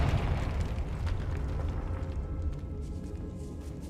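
A Confringo spell blast erupts in Hogwarts Legacy inside a decaying catacomb, a loud deep rumbling explosion that roars at once and slowly fades over a few seconds.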